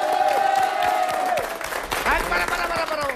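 Men in a comedy show audience clap in a loose patter beneath loud crowd voices, with shouting and whoops layered over the applause.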